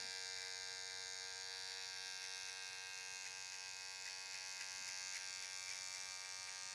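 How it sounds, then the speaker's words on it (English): An electric hair trimmer buzzes continuously and evenly up close during a skin fade, a steady harmonic whine with slight changes as the blade works the hairline. "Using the toe and heel on my trimmer to buff this line out with."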